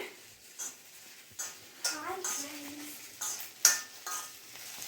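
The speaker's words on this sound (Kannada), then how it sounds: "ಮೊದಲಿಗೆ ಬೆಂಡೆಕಾಯಿನ ಹುರ್ಕೊತಾ ಇದ್ದಾರೆ" Okra frying in a pan, a soft sizzle broken by a string of scraping and clinking stirs from a spoon against the metal, close up, with a voice talking quietly underneath.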